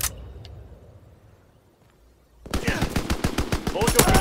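An M2 carbine fires in Call of Duty: WWII: after a quiet stretch, a sudden rapid run of loud, close automatic shots rattles on steadily to the end.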